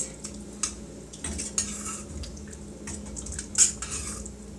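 A spoon stirs dissolved miso into a burdock root dish in a pot, with scraping, clinks of utensil against the pan and a soft sizzle underneath, close and without talking.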